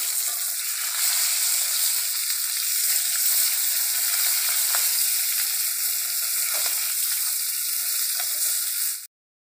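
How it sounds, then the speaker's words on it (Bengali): Fish frying in hot oil in a pan for a Bengali fish curry with eggplant and potato, giving a steady, close sizzle that carries unbroken for about nine seconds before cutting off, with no voices. "মাছগুলো আমি একটু উল্টে দিচ্ছি"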